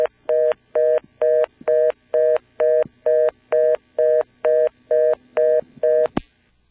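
Touch-tone dialing on a 1977 NX1-E telephone exchange in Vanceboro, North Carolina: about thirteen short, evenly spaced dual-tone beeps, each clean and loud, in a steady rhythm ending with a faint click.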